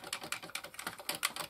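Rapid, uneven clicking of keys on an Amiga A500 computer keyboard, a close flurry of light keystrokes with no talking.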